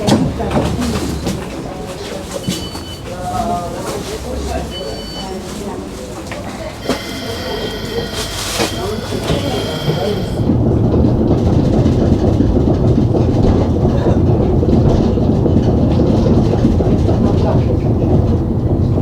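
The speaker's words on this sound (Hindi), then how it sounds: "ये देखो आ गई ट्राम, ओल्ड टाइप की ट्राम है" An old-type airport tram in Estonia runs along its rails with steady rumbling and clickety-clack, close and loud for the whole stretch, joined by faint bird calls and a brief burst of squealing in the middle.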